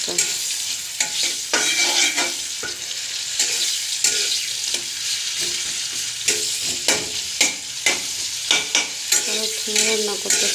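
A banana curry frying in a pan, stirred with a steady series of scraping strokes over a constant sizzle, close and clear with no voices.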